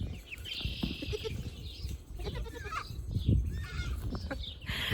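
On a farm, chickens cluck in short irregular bursts at moderate distance, mixed with outdoor rustling and background noise, with some faint talk.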